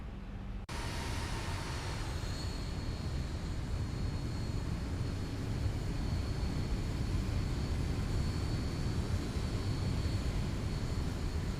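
Boeing 737-900ER engines heard from outside in the X-Plane 11 flight simulator, a loud, steady, broadband jet roar with a faint high whine, continuous throughout.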